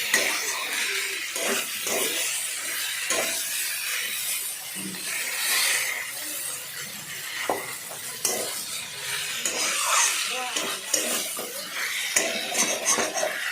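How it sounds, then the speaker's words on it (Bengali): A spoon scrapes and clinks against a pan while cauliflower stem chorchori with turmeric and sugar is stirred, with irregular metallic scrapes and knocks and a soft sizzle running throughout, up close and fairly loud. "দিয়ে সেটাকে ভালো করে নাড়াচাড়া করলাম।"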